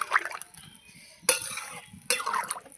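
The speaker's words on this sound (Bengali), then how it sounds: "জল দিয়ে ভালো করে নাড়াচাড়া করে" A pot of bata fish curry with water being stirred, giving short scraping and sloshing bursts with two sharp metallic clinks of the spoon against the pot, close up, with quiet pauses between.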